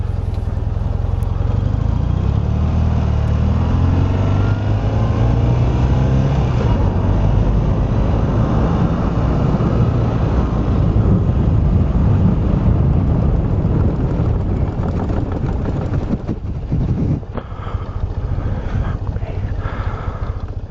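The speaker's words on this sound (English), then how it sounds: "I went to take it out for a test ride." A vintage BMW Airhead motorcycle rides on a test run after fork and steering bearing work, its engine drone rising and shifting under heavy wind rush, loud and continuous throughout.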